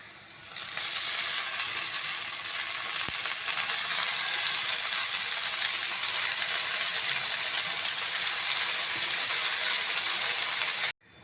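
Thandu keerai greens hit a pan of frying onion and dal, setting off a loud, steady, continuous sizzle that holds for several seconds before cutting off abruptly, with no voices.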